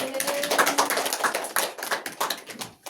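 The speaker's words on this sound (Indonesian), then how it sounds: "Berikan aplaus kepada Mbak Hani." Classroom applause for a student's presentation: a burst of many hands clapping at close range, dense and uneven, trailing off at the end, with faint talk in the room.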